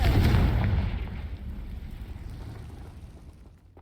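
A Confringo fire spell bursts in Hogwarts Legacy, a single deep booming explosion at the start that rumbles and fades out over a few seconds.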